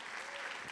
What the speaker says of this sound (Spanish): Alguien que le dé un aplauso al Señor por eso.